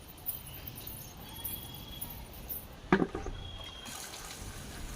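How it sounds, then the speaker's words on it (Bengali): Tap water running steadily onto potted plants on a sunny rooftop, a soft continuous wash with a brief louder splash partway through, fairly quiet and with no talking. "গাছের জল নেই, শুকিয়ে গেছে মাটি, তো সেই জন্য জল দিচ্ছি"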